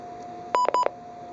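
Electronic beeps from a Midland WR-300 weather radio as a button is pressed: two short, close, bright tones in quick succession, each ending with a small click, over a quiet background.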